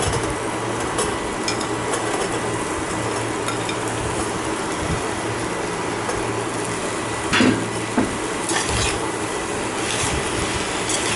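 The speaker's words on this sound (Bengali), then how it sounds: "তো আমি এবার ছোলেগুলো, চানাগুলি অ্যাড করে দেবো" Kabuli chana chickpeas being stirred into cooked masala in a pan, with a steady sizzle and frying hiss throughout and a few scraping knocks of the spoon, close and continuous.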